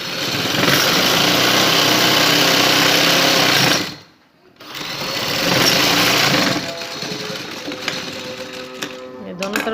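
Sewing machine stitching a design on a shalwar sleeve, loud rapid mechanical whirring in two bursts separated by a brief pause, then quieter slower stitching.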